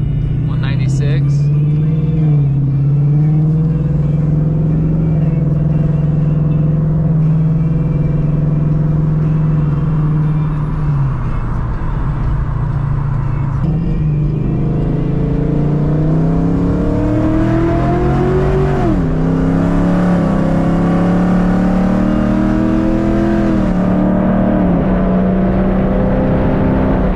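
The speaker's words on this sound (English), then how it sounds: "Says to keep it in a second gear and then go wide open throttle." A Foxbody Mustang with a Coyote V8 swap and Gen3 10R80 automatic makes a loud wide-open-throttle pull from second gear, its droning engine note climbing through shifts with voices talking over it.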